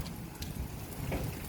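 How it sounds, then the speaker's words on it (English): Heavy rain pours outdoors in a steady, moderately faint wash of noise with a few louder splashes, and no talking. "Oh, it's still raining out here. Woo! It's pouring down, y'all."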